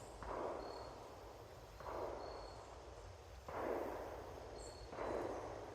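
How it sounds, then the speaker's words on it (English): Four distant gunshots at steady intervals, each a muffled booming thud with a short decaying tail over quiet countryside background. "Those are gunshots."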